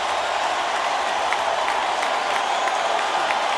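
Phillies fans at a Nationals–Phillies baseball game in September 2008, with the Phillies clinching the NL East: a loud, steady stadium roar of cheering and clapping, continuous throughout.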